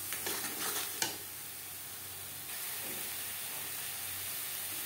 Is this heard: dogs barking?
no